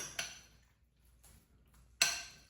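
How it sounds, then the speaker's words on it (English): A metal spoon stirring a salted mixture in a bowl while preparing bruschetta, giving a few quiet separate clinks and scrapes against the dish with near silence between them. "I'm gonna stir it with a spoon."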